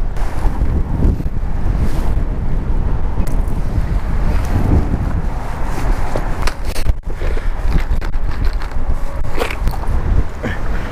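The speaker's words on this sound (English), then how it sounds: "I don't know if you guys can hear that, but it's super windy" Strong wind roars steadily at Milwaukee Harbor, battering the microphone with a continuous low rumble and gusty buffeting throughout, no talk heard.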